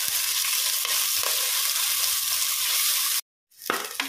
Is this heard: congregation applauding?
no